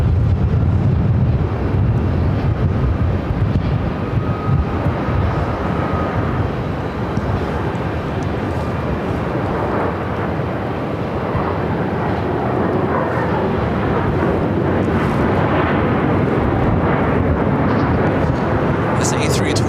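Airbus A321 airliner at Phoenix airport, a loud continuous jet engine roar with wind buffeting on the microphone, a voice talking over it at times.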